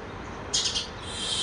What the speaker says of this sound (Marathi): पहा चिमण्या अजून पण येतात आमच्याकडे.